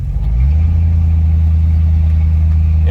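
A 1977 Mercury Cougar running on old dry-rotted front tires drives along a road, its engine a loud, steady low drone that settles into an even cruise after a brief rise at the start.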